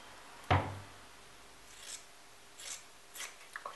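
Fabric for a sweatshirt is cut with scissors in one sharp, close snip, followed by a few quieter rustles and snips.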